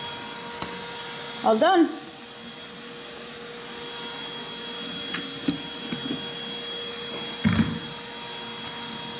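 An electric blender mixes an apple and yogurt drink with a steady, moderate motor whir throughout, and a voice speaks briefly twice over the noise.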